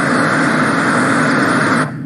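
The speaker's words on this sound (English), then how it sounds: "and this is the sound of the forest." A forest nature soundscape played on a Xiaomi Redmi Y2 at a launch event in India, a steady dense wash of ambient noise that holds for about two seconds and then cuts off abruptly.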